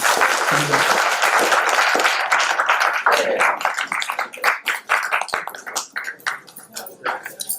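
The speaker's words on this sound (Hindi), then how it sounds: "इसके लिए एक बार जोरदार तालियां" An audience at a theatre production applauds loudly, the dense clapping thinning into scattered individual claps toward the end.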